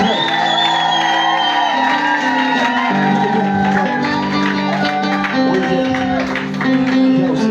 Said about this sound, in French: acclame Jésus, pousse des cris de joie